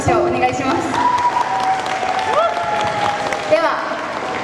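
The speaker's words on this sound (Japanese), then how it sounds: "もう一度サポートの2人に拍手をお願いします" Audience applause for two support musicians at a small live show, clapping mixed with sustained musical tones and some voices in the room.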